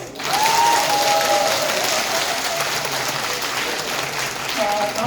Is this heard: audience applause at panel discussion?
yes